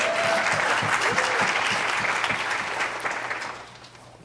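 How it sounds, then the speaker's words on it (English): A conference audience at a marine economy panel gives a round of applause, steady close clapping that tapers off gradually toward the end. "There's an applause for that."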